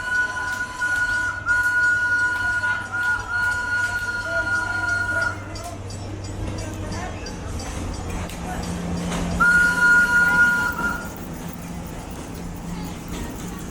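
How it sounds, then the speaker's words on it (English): The Rafiki's Planet Watch train at Disney's Animal Kingdom rumbles past nearby with two long, steady whistle blasts, one near the start and another later, over ambient noise and occasional voices. "so we can see the Rafiki's Planet Watch train come through"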